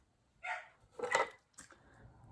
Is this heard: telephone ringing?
no